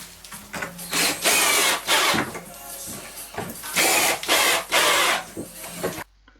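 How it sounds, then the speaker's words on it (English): Power drill driving screws to fix wooden beams to a wall for a small workshop workbench, in several loud whirring bursts of a second or so separated by short pauses, close by. "this allows me to simply screw some beams to the wall"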